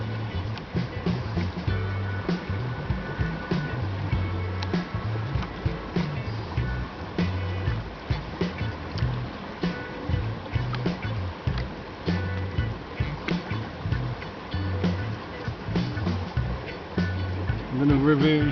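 Water sloshes rhythmically in a gold pan as it is rocked side to side beside a stream bend, a continuous close wash of swirling water.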